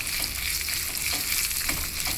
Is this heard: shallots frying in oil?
yes